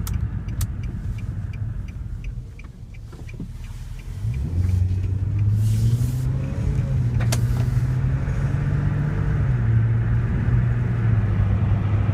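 A Nissan Altima on a test drive starts off quiet with a few clicks, then its engine rises into a steady rumble as the car accelerates, with pitch shifting through gears and road noise underneath.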